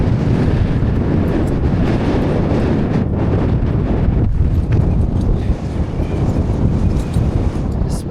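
Strong wind on an alpine mountain summit, blasting the microphone with a continuous loud, rumbling roar that buffets unevenly throughout, with no voices.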